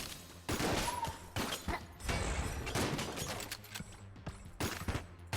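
Rapid bursts of fire from a freezing gun in the video game Enter the Gungeon, dense crackling shots in quick volleys with sharp impacts, loud and close, without talk.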